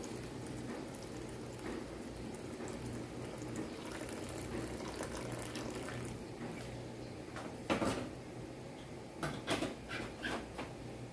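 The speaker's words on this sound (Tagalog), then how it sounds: "maglagay tayo ng mainit na tubig na para mabilis" Hot water runs and splashes steadily into a pot at close range, with a few louder clattering bursts toward the end.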